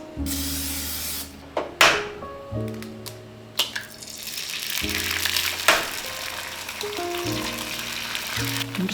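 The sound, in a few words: egg frying in a pan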